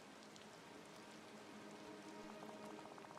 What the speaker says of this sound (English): Oh, Tink, it's starting to rain again